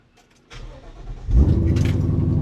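A 1970 Ford F100 pickup with a swapped-in Coyote V8 and six-speed cranks over and fires up close by, the starter whirring briefly before the engine catches and settles into a loud, rumbling idle.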